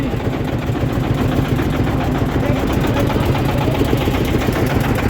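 A river boat's engine running steadily on the way back to the ghat near Mawa on the Padma, a loud, close, rapid chugging drone that fills the whole stretch.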